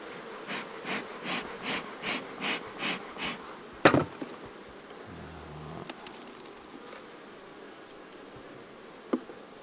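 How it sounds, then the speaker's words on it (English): Honey bees hum around a healthy, crowded colony during an early-day hive inspection in West Virginia, a faint steady buzz with a short series of rhythmic pulses at the start and a couple of sharp knocks. "A lot of bees."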